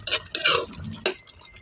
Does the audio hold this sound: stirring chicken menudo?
yes